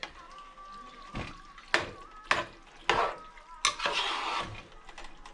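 Mushrooms fry in a pan while being stirred, a faint sizzle broken by four or five sharp scrapes and clanks of a utensil against the pan, close by.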